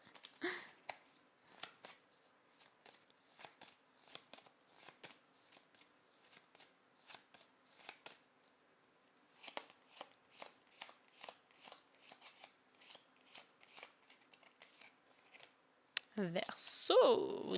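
Tarot cards being shuffled by hand, a long series of soft rhythmic riffling flicks close up with brief pauses, ending with a voice speaking.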